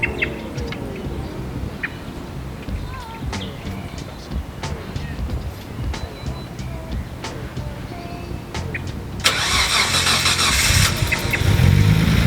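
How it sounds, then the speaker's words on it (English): A car engine cranks and fires up in an open engine bay, with birds chirping outdoors; the motor catches near the end and settles into a louder steady running sound. "We're gonna hear the engine."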